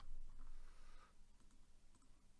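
A short, quiet run of computer keyboard typing during AutoCAD 2020 drafting, heard as soft irregular key clicks with no talking.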